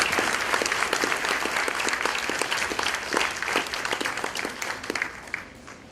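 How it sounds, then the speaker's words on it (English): An audience at a senior breakfast gathering applauds four women, a dense, steady wash of many hands clapping throughout before thinning slightly at the end. "Can we have a round of applause for our four ladies?"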